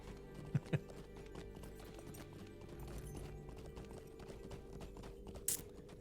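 Horse hooves clip-clop in a Middle-earth video game, quiet and distant under a steady ambient hum, with a couple of sharper knocks near the start and a brief bright burst near the end.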